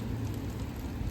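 Steady rain at about 34 to 35 degrees during a windy March blizzard in Lincoln, Nebraska, heard as a continuous, even hiss of falling drops with no voices.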